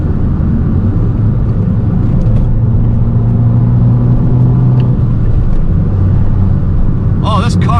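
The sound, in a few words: Fiat 595 Abarth engine revving with exhaust pops and bangs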